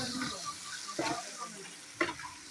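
Onions fry in a pan, giving a soft, steady sizzle with occasional scraping knocks as they are stirred, close by and fairly quiet.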